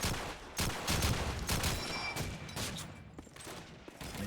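Grenade blasts and gunfire in a competitive World War II shooter match, a rapid series of sharp bursts and volleys at fairly low volume, with no voices.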